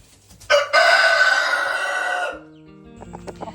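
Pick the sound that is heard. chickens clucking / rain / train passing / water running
chickens clucking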